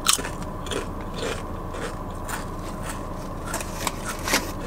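Close, crisp crunching of Sun Chips being chewed during a Subway meal, a steady run of dry crackles and bites with no talking.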